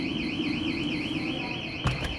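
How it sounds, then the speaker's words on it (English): Building alarm sounding during extreme wind, a warbling electronic tone repeating in fast even cycles at moderate loudness over a wind rush, with a short bump of noise near the end. "Our alarm is going off."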